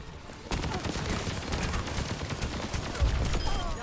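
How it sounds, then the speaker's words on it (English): Soldier 76's Helix Rocket volley in Overwatch amid a dense, loud barrage of game gunfire and explosions starting abruptly and continuing steadily, with faint voices underneath. "Ooh, nice Helix Rocket."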